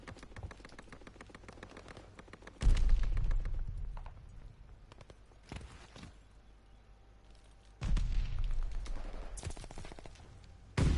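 Grenade throw and gunfire in a video game, with two loud bursts of low rumbling blasts and crackling rising out of a quieter backdrop of scattered clicks and distant shots.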